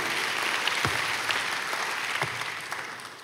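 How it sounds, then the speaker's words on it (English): A church congregation claps steadily through a sermon, a dense, sustained wash of applause from a large crowd with no talking over it, fading slightly toward the end. "That's a good place to clap."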